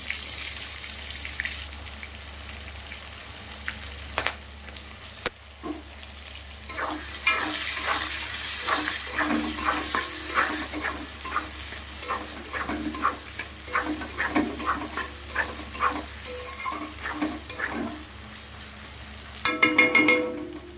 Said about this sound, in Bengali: পেঁয়াজটা লাল লাল করে ভেজে নিই